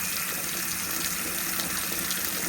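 Tap water runs steadily at an off-grid ranch near the Grand Canyon. The continuous, even rush stays at one level from start to finish, with no talking.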